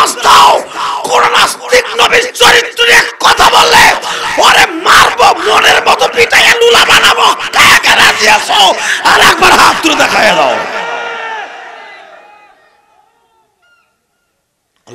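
At a religious gathering, a large crowd roars the takbir in answer to a preacher, with loud, rhythmic massed shouts repeating for about ten seconds before fading into silence.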